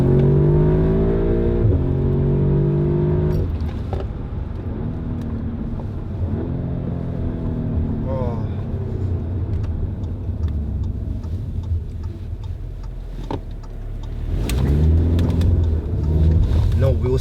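A tuned Audi S3 Stage 1 with about 360 bhp launches and accelerates hard, its engine rumbling and building through repeated revs, with people talking over it inside the car.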